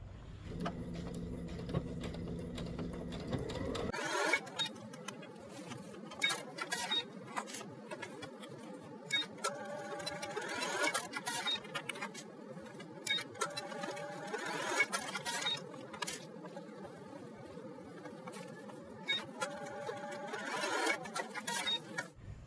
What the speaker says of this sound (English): we're going to take it to the machine and we're going to baste them down to the actual shirt